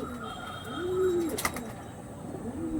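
Chennai blood pigeons coo softly, a couple of low rounded calls with a short chirp between them, close by and fairly quiet.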